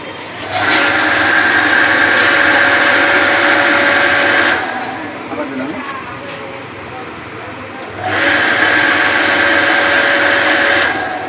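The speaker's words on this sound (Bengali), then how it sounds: "আমরা এই মোটর সুইচ দিলাম" A Pedrollo water pump motor runs at a steady, loud hum with a whining tone, cuts out for a few seconds in the middle, then starts up again and keeps running.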